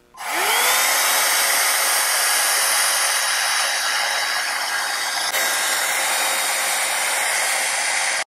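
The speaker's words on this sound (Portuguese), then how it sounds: "é um barulho de escova secadora, é escova, é um barulho de secador" A Segredo Dela 2-in-1 hair dryer brush whirs on with a rising tone, then runs loud and steady in a constant high-pitched blowing hum before cutting off.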